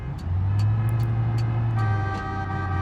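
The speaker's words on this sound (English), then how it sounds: "Some people are horning at me." A car horn sounds in the BeamNG driving game, a steady blaring tone held for roughly two seconds over constant engine and road noise, loud and close with no talk.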